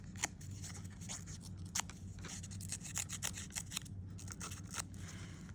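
Scissors cut through paper in a craft journal, a quick series of close, crisp snips and rustles repeating steadily across the clip, fairly quiet, with no talking.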